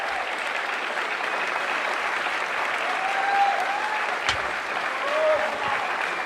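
An audience at a live politics-and-pints event breaks into sustained applause with cheering and whoops, a continuous wash of clapping that holds steady throughout at moderate, roomy distance.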